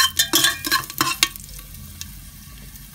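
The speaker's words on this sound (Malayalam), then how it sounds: "അതിലേക്ക് വെള്ളം ഒഴിച്ചു കൊടുക്കണം" Whole spices (chilli, cardamom, cumin, cinnamon, clove) frying in a pan for chicken biriyani, with loud bursts of hissing sizzle and clattering stirring in the first half, fading to a quieter low simmer, then a sharp burst at the very end.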